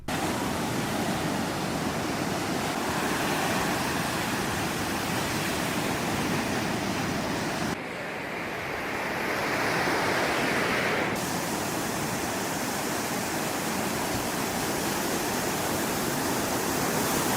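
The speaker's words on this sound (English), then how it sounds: "You guys really enjoyed the glowing blue waves from the last episode, so here's some more footage." Ocean waves glowing with blue bioluminescence break and wash ashore in a steady, loud roar of surf, with a brief dip partway through before the rush swells again. No voices are present.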